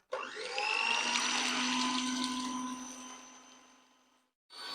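An electric mixer whirring steadily as it beats egg yolks with sugar in a bowl, a loud close motor hum with a slightly shifting pitch that fades and cuts off, then restarts briefly.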